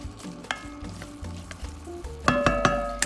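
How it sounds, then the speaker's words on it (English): Beef stroganoff with tomato bouillon sizzles in a hot pan as a utensil stirs it, giving soft scrapes and a few clinks against the pan, louder toward the end. "stir all that around"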